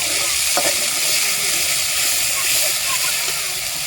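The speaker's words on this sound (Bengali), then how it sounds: "এটাকে ভালোভাবে ভেজে নেবো" Potatoes and eggs for a curry sizzle in hot oil in a pan, a steady broad hiss that runs without a break, with a faint clink near the start.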